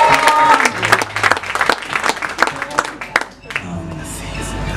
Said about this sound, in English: can I please get a round of applause for yourselves for being here tonight.